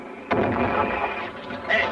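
A ship's cannon fires once, a sharp boom followed by a rumbling tail, with a second fainter report near the end, set in a pirate-adventure battle scene.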